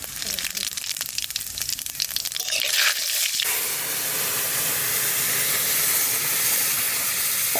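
Dried red chillies sizzle in hot oil in a kadai as tempering for a Bengali elephant foot yam and hilsa fish curry, giving a steady, close, broadband hiss that swells louder partway through and then holds without pause.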